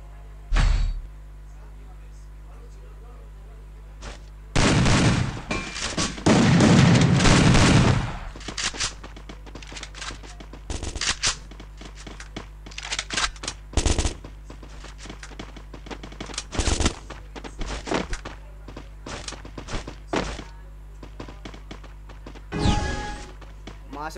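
Gunfire in a shooting video game, heard as scattered single shots and short bursts over a steady background hum, with a commentator's voice between the shots.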